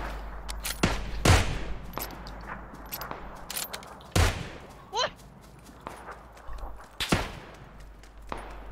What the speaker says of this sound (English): jangan nembak-nembakin aku dong